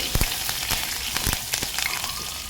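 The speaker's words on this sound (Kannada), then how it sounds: "ಸ್ವಲ್ಪ ಹೊತ್ತಿದನ್ನು ಫ್ರೈ ಮಾಡುವ ನೋಡಿ" Crushed garlic and curry leaves frying in hot oil for tomato rasam: a continuous close sizzle with scattered sharp pops and crackles, no talk.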